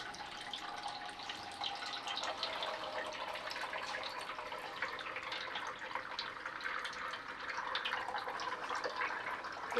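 Warm filtered water pours in a steady, gentle stream into the soil of a potted Nepenthes pitcher plant, a soft continuous splashing trickle heard close and alone for several seconds.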